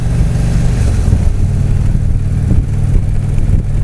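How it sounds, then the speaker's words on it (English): A big V-twin motorcycle on stock exhaust pipes rumbles close and loud, a steady low throbbing idle with slight pulses and no talking. "It's got a nice rumble out of the exhaust pipes, but it's not too loud."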